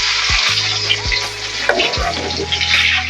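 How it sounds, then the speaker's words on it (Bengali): Dry red chilli, cinnamon, cumin seeds and chopped garlic crackle and sizzle in hot oil, a bright steady frying hiss with a few low thumps and spattering pops, close up and without voices. "তেলটা আমার গরম হয়ে গেছে এবার আমি দিয়ে দিলাম শুকনো লঙ্কা দিয়ে দিলাম দারচিনি দিয়ে দিলাম জিরে ফোড়ন দিয়ে দেব রসুন কুচানো"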